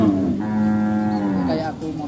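A cow at a livestock market in Indonesia lets out one long, loud, drawn-out moo that falls in pitch toward the end, close by over a steady crowd murmur.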